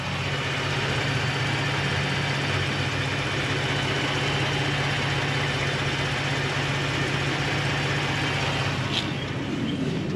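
A 2020 Ford Raptor pickup truck engine idles steadily with a constant low rumble and even mechanical hum, close and unbroken throughout, with no knocking.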